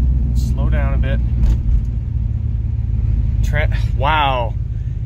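An Oldsmobile car with a newly replaced transmission, driving along with a steady low engine rumble and road drone from inside the cabin, while people talk briefly over it.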